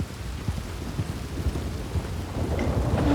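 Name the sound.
rain and thunder in video game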